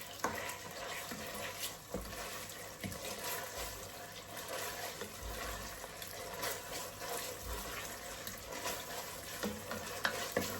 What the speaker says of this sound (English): you have to keep stirring so that it doesn't burn